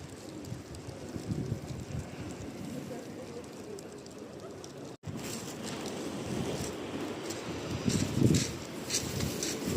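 Sea waves wash onto the shore at Sochi on a warm day, a steady close rushing surf with wind noise against the microphone and swells growing louder toward the end.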